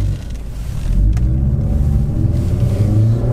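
An Audi pulls away and accelerates on a road, a close, low rumbling engine that swells in loudness and pitch, heard alone without talk.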